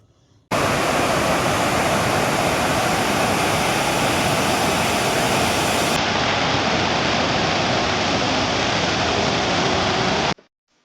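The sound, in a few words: Rajdari/Devdari waterfall rushing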